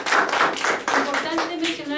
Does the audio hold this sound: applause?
yes